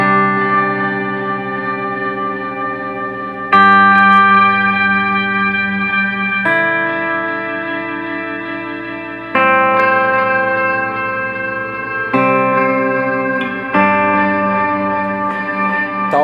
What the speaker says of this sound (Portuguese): uma coisa que eu não gostei muito desse pedal é o shimmer